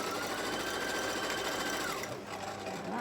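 A sewing machine runs steadily, stitching fabric for a Christmas bag made from cushion panels, a close continuous whirring hum that dips briefly near the end.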